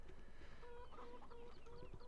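Chickens in a farming video game cluck quietly in short, repeated calls over a low steady background hum.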